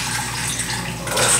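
Liquid Clorox bleach trickles and splashes as it is poured into the open drain line of an AC unit, making a continuous close pouring sound with no talking.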